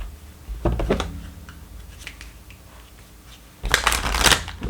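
A deck of tarot cards being shuffled, with two quick riffling bursts, one early and a longer one near the end, separated by soft handling rustles, close and clear.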